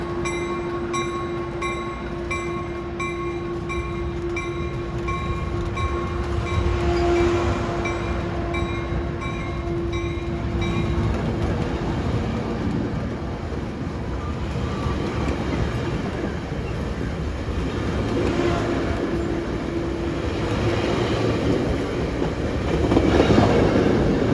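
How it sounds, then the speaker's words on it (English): A Caltrain commuter train sounds its K5LA horn for a crossing around a curve, a strong sustained chord, then passes nearby with a rumbling roar and rail clatter as the horn fades and returns faintly. "these things have K5LA horns, beautiful ones. There's a crossing around the curve up ahead."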